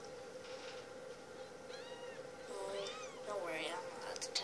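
A small house cat gives several close, plaintive meows in a row, rising in pitch and intensity toward the end, while people talk over a steady background hum.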